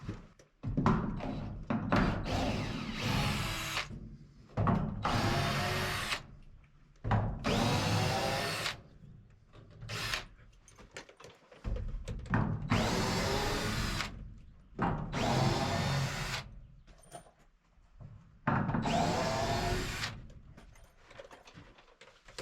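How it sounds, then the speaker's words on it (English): On a tiny log cabin roof, a power drill unscrews 1x2 boards from wedge boards in repeated bursts of whirring lasting one to two seconds each, separated by pauses with light knocks and handling of the wood. "all I need to do is unscrew the 1x2s from the wedge boards"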